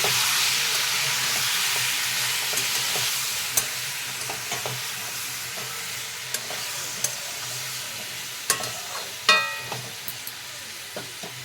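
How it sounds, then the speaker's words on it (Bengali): Prawns with slit green chilies are stirred in a hot pan while a soft sizzle hisses steadily underneath, punctuated by occasional sharper spatula scrapes and clicks, with one louder clatter near the end. "দুটো চেরা কাঁচা লঙ্কা দিয়ে দেবো। ভালো করে মিশিয়ে নেব।"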